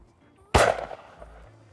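A Beretta Ultraleggero shotgun fires a single loud close shot at a clay target, a sharp blast that decays into a brief outdoor echo.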